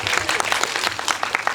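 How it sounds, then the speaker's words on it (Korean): Audience applause at a Korean film screening Q&A, dense steady clapping from a crowd filling the whole moment, fairly close and even in loudness. "박수"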